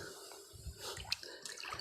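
A turtle slips from a pit into water, giving soft, close splashing and sloshing with a few small drips over a couple of seconds and no talking.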